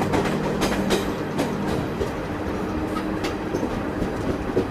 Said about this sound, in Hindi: आपको वही WCM-3 लोकोमोटिव्स दिख रहे होंगे जो एज अ बैंकर बन के घाट सेक्शन चढ़ने में हमारी मदद कर रहे हैं।